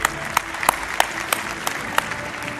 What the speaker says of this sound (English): A huge round of applause for our very special guests.